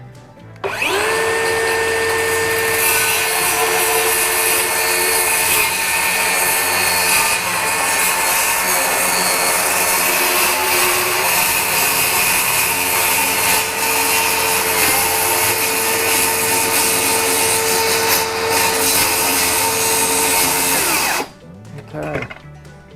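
A Dewalt jigsaw cuts through a wood pallet in one long continuous run of about twenty seconds, a loud buzzing rasp with a steady whine, then stops abruptly.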